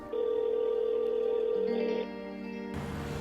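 A telephone call tone sounds while someone places a phone call, a steady electronic tone that holds, shifts pitch partway, then changes to a rougher buzzing signal, with no talking.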